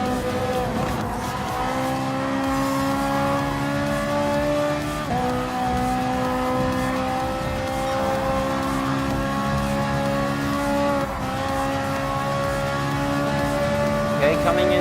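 A Ferrari 458 Italia GT3 race car in Gran Turismo Sport holds a steady, high engine drone with smooth pitch climbs and a few gear-change dips, at night racing, running loud and continuous throughout.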